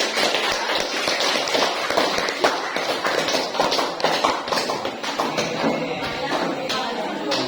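Classroom full of students clapping together in a dense, steady burst of hand claps lasting several seconds, loud and close, with faint voices mixed in.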